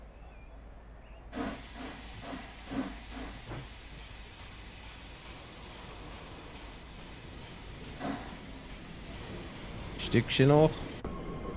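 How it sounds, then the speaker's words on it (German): An S-Bahn train pulls in within Train Sim World 4, a low rumbling hiss with rhythmic wheel clatter and a brief loud screech near the end, under occasional speech. "So, da kommt die andere S-Bahn"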